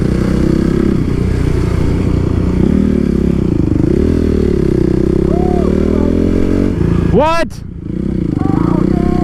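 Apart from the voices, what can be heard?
motor scooters riding by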